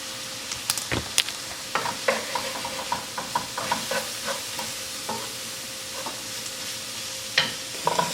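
A spoon stirs paprika around a sizzling pan, producing a steady frying hiss broken by frequent light scraping clicks and taps at close range.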